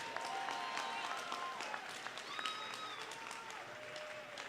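Sustained audience applause mixed with crowd noise fills an arena after a championship fight, with a few faint tonal sounds in the background.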